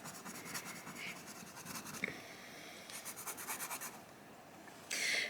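Holbein coloured pencil scratching across paper in close, soft strokes, a steady rasping rhythm with brief pauses and a few firmer scribbles.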